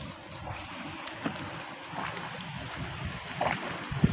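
Steady rushing water of the Hogenakkal waterfall on the Karnataka–Tamil Nadu border, a broad continuous roar heard from a distance with a few faint knocks and splashes near the end and no talking.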